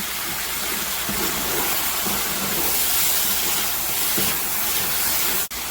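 Dry vermouth cooking off in a hot pan of Spanish garlic shrimp and scallops, giving a steady broadband sizzling hiss throughout, loud and continuous, with a brief clatter near the end.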